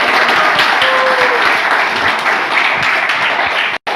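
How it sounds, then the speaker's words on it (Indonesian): Sustained applause from a large audience at a civil-registry administration talk in Pamekasan, a dense, steady wash of many hands clapping close and loud, running unbroken for about four seconds before a brief cutoff near the end. "Ada tepuk tangan."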